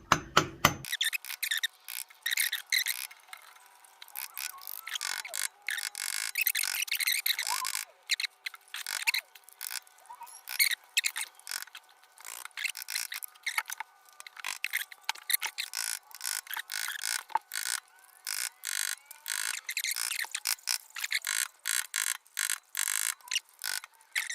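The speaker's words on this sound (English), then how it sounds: "Okay, got my other screwdriver in there. Finally able to break it loose, and there she is. And the seal's out." A screwdriver pries at the hydraulic pump seal of an International 300 Utility tractor, producing a long run of close, irregular metallic scraping, tapping and grinding with brief pauses, and no speech.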